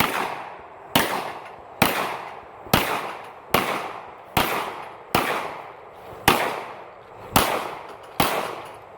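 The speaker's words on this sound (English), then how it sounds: "let's do some pistol shooting" Pistol shots fired at steel targets on an outdoor range: about ten loud, sharp cracks at a steady, roughly one-second rhythm, each trailing off in a short decay.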